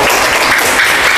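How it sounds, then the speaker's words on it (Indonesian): Applause from schoolchildren at an elementary school event in Waru, a dense, loud burst of hand clapping filling the room alone without talk. "Oke, tepuk tangan dulu."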